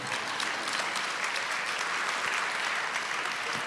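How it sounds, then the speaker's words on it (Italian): Audience applause at a book festival talk in Rome, an even, continuous wash of clapping heard at a distance, moderately quiet and without talk. "potete applaudire comunque"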